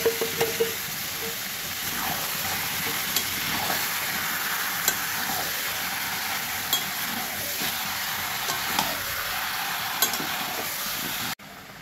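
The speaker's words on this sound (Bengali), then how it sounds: "কষানো হচ্ছে" Chicken pieces with turmeric sauté in a pan for a curry, giving a steady sizzle and frying hiss with occasional stirring scrapes and clinks, close and continuous with no talking.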